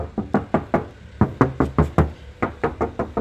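Knuckles rap on the metal front left door of a black 2016 Isuzu Panther LS Turbo, about fifteen sharp, hollow knocks in quick bursts of three to five, close and loud with no talking.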